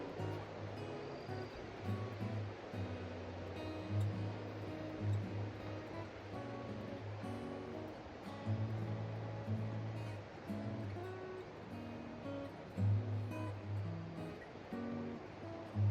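A mountain stream on a trek toward Shey Phoksundo rushes in a steady broadband wash, with soft irregular surges and faint rustling, heard from nearby at low level throughout.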